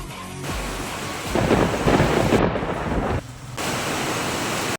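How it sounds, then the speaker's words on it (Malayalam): Heavy summer rain pours steadily with rolling thunder building to a loud rumble midway, then easing back into a dense, even downpour. "അന്നും വേനൽ മഴ ഇടിച്ചൊത്തി പെയ്തു"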